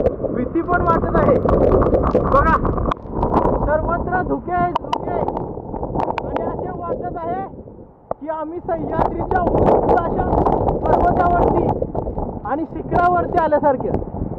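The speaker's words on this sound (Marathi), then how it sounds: "वाऱ्याला जोरात सुटलेला आहे" Strong wind buffets the microphone in loud, rumbling gusts at a foggy forest viewpoint in heavy rain, while a voice keeps talking over it throughout.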